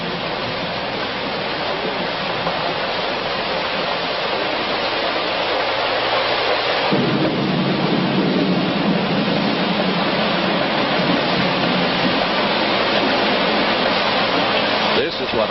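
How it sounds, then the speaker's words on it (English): Heavy rain pours steadily outside a hotel as a dense, constant roar, with a deeper rumble like thunder swelling beneath it about halfway through and continuing to the end. "they are enjoying the first decent rains in 4 months"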